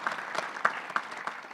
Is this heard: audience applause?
yes